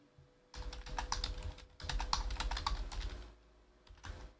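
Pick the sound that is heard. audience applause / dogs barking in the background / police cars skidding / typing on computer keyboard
typing on computer keyboard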